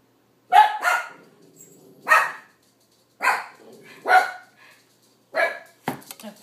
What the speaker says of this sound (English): Of course the dogs start barking.